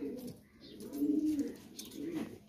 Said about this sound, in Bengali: এই যে এখানে দুইটা কবুতর আছে নতুন মডেলের